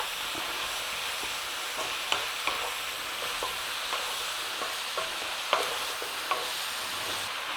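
Potatoes tipped into a hot frying pan for a braised cabbage and minced beef soup and stirred, a continuous sizzle under sharp intermittent scrapes and knocks of the utensil against the pan, close up.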